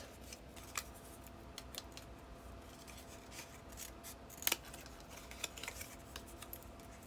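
Scissors snip through paper while a square is miter cut for a gift box album, quiet close cuts and rustles with a few sharper snips scattered across a soft background hum.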